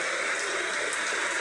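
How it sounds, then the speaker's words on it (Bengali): Steady rain pours onto a tin-roofed house at Asimpur bazar in Shalika, Magura, a dense, even hiss of drops that stays loud and unbroken throughout. "বৃষ্টি হচ্ছে আসিমপুর বাজার, শালিকা মাগুরা"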